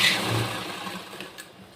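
A sewing machine stitching the seam of an embroidered blouse gives a short, close mechanical whir that fades slightly over under two seconds, with no talk.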